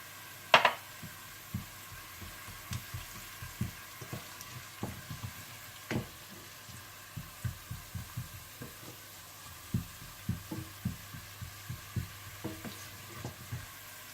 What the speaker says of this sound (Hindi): और जैसे ही प्याज हल्के से ब्राउन होने लगे तो आप इसमें साबुत जीरा डालकर भून लें।